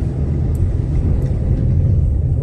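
Heavy car rumbling along a rain-flooded street during a downpour in Novosibirsk, a loud, steady low engine drone with water churning under the tyres, continuous and close throughout.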